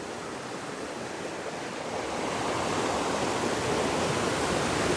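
A waterfall rushes as a constant broad roar, steady throughout and growing slightly louder partway through, with no voices over it.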